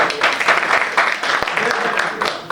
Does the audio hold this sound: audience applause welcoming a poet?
yes